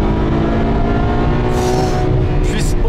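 A naturally aspirated 740-horsepower car engine revs loud and close, a steady roaring drone with brief higher surges near the end and a faint voice underneath.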